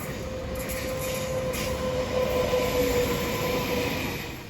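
A New South Wales NIF Mariyung intercity passenger train rolls past at steady speed, a sustained rumble with a faint high tonal whine and light wheel noise throughout.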